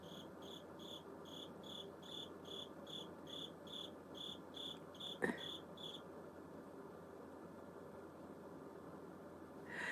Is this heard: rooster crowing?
no